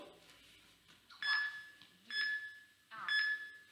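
Three short electronic beeps at an even interval of roughly a second, clear and close, over a quiet room.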